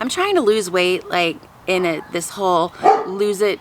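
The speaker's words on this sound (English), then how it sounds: "Sorry about the dog barking." A dog barks and yips in a room while someone talks steadily over it; the barking is close but mostly buried under her voice.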